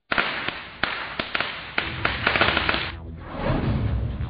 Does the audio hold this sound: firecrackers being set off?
yes